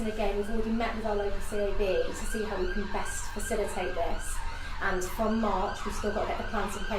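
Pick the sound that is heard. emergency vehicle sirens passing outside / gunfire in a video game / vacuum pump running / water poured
emergency vehicle sirens passing outside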